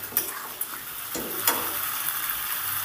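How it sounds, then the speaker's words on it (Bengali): Dal curry in a pan being stirred: a few scraping strokes and taps over a steady, close sizzle. "সুন্দর করে একটু নেড়েচেড়ে দেব।"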